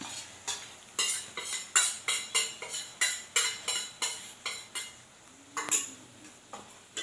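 Rhythmic stirring of Schezwan chutney into triple rice in a pan, with about a dozen and a half regular clinks and scrapes of a spoon against metal, close and clear, with no talking.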